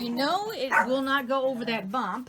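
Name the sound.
dogs barking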